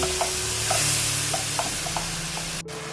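Masala spices fry in oil in a pan for spicy mash (urad) dal, giving a steady close sizzle with a few soft stirring clicks, then a brief cut near the end.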